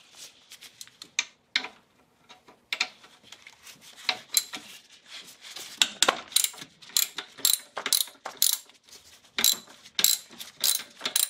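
A hand ratchet clicks in quick, uneven bursts while loosening a 12 mm bolt on the alternator of a 1999 Acura RL, the sharp pawl ticks close and crisp with short pauses between strokes.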